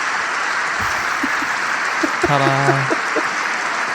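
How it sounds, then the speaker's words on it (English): Several sharp hand claps ring out in a row against a steady broadband hiss, and a voice briefly calls out in the middle. "You manually clapped."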